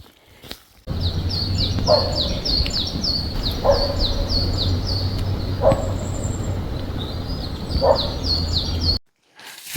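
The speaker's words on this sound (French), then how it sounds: "il y a eu des aboiements et c'était pas du chevreuil, c'était bien du chien." A dog barks four times at regular intervals in the distance in a forest, while birds chirp steadily throughout amid outdoor ambience.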